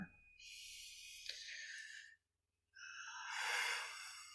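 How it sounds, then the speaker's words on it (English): A long, breathy human yawn during a quiet podcast conversation, drawn-out airy exhalations that pause briefly and then swell again, close to the microphone with a low hum underneath. "Sorry, I'm yawning."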